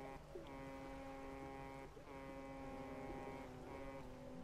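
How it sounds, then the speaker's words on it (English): A distant ship's horn sounds at sea in the Dredge fishing video game, sustained tonal blasts broken by brief gaps, faint and far off over quiet ambience. "I can hear that ship but not see it"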